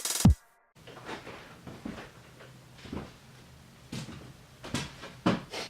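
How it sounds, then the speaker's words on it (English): An old living-room door being taken off, with a sharp opening knock and then scattered thumps, clunks and creaks of wood and hardware at irregular intervals, close by. "I'm taking the door off today."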